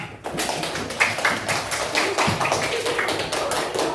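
A class group claps together in a room, a quick run of sharp, overlapping hand claps that stays steady for several seconds, with faint murmuring underneath.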